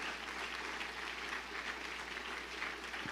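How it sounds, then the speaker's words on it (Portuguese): Church congregation applauding strongly during a sermon, dense sustained clapping from many people filling the room at an even level throughout. "aplauda forte."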